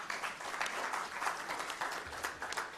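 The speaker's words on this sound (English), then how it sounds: "We can give him a round of applause." An audience at an economic forum on Uganda's public debt applauds a presenter arriving to deliver a debt sustainability report. The clapping is a continuous, even patter of many hands at moderate level, with no talk over it.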